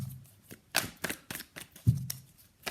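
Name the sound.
shuffling tarot cards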